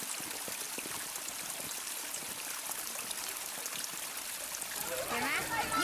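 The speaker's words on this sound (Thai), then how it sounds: "นี่ถ่ายให้ยินเสียงน้ำไหลฟังสิ" Water flows steadily in a stream in a town near Hakone, Japan, a continuous trickling wash heard up close, growing a little louder near the end, with voices talking faintly over it.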